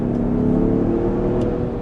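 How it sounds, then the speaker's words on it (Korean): A Lincoln Aviator SUV with a 405-horsepower engine in sport mode revs hard under acceleration, a loud, steady, deep engine roar close by. "스포츠 모드에서 살짝만 가속 페달을 세게 밟아도 엄청난"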